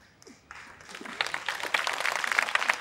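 An audience claps in a live music talk event, the applause building from scattered claps into a fuller, steady patter that carries on to the end without anyone speaking.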